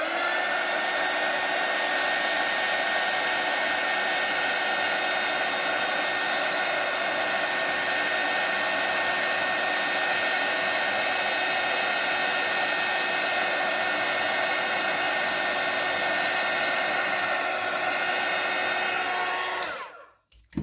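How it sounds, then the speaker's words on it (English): A heat gun blows steadily on resin with a loud, constant whooshing roar of hot air that runs unbroken for about twenty seconds, then cuts off abruptly at the end. "So now I'm going to use the heat gun"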